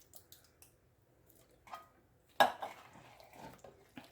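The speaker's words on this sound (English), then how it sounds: "Just stir it in." Diced tomatoes with garlic and olive oil being stirred into a soup pot, giving a sharp utensil clatter against the pot followed by softer scraping and tapping, faint and close, with no talking.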